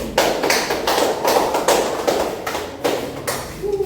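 Classroom applause for a student group after a poster presentation, a close burst of quick, uneven clapping from several people that runs steadily for a few seconds.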